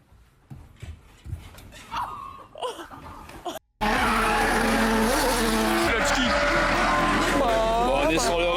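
Drift cars at the Drift Cup burn their tyres, starting with quieter engine revs and distant squeals, then a loud, sustained roar of engines and wavering tyre screech that fills the rest of the clip, near and intense.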